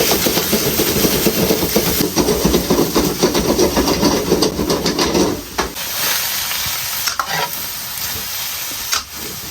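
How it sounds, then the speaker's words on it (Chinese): Lamb offal and lamb liver stir-fried in a wok with oil, scallion, ginger and garlic: a loud, dense sizzle with rapid scraping and tossing strokes, easing into a quieter hiss near the end with a few clanks. "下入羊杂，还有羊肝，全部给它翻炒"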